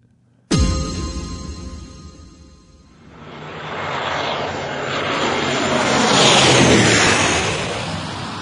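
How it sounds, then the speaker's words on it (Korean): An airplane flies past; after a sharp onset, its broad engine roar swells steadily over several seconds and grows loud and close near the end, with no talk. "김종필은 가벼운 마음으로 서울행 비행기에 올랐다"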